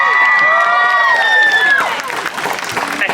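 A live crowd at the St Louis Renaissance Festival applauds, cheers and whistles loudly, with a shrill whistle and shouts riding over a steady patter of clapping.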